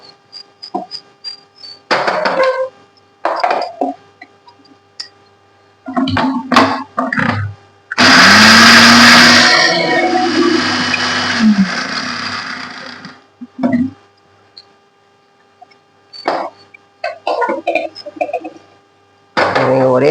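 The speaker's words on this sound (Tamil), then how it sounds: "ஒரே ஜார்ல மொத்தமா போட்டு அரைச்சி எடுத்துக்கலாம்." A small mixer grinder jar grinds spices into powder for vatha kuzhambu, a loud whirring burst running about five seconds and then winding down, with someone talking in Tamil before and after it.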